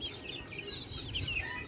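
Five-month-old gamefowl, an SBR and Boston Roundhead cross, make faint, soft clucks and chirps in a brief, quiet stretch with low background noise.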